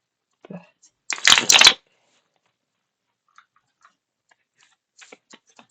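Cards of a Mystical Rose Oracle deck riffle-shuffled in one brief, dense burst of crisp flicking, followed by near silence with a few faint taps.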